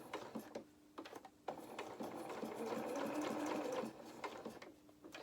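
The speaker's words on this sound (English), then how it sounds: "take out the first pin, and then we're going to start and sew round" A sewing machine stitches round a teddy bear's head in short, quiet whirring bursts, with one longer continuous run in the middle and brief pauses between.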